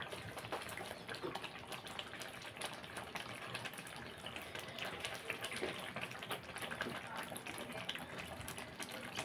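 Water poured into a pot of sea fish and tamarind curry: steady rushing flow pouring continuously for several seconds, close and fairly loud, with a faint murmur in the background.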